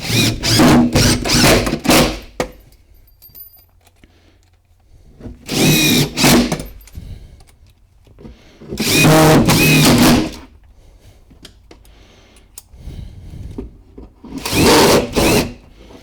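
A power drill drives screws through the back of a stair riser into the tread of a bullnose staircase kit. It makes four loud, close bursts of whirring and grinding, each lasting one to two seconds, separated by quieter pauses.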